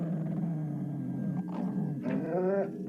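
A dog in a played film clip gives a couple of short growling whimpers and yelps, fairly close but somewhat muffled, with no voices over it.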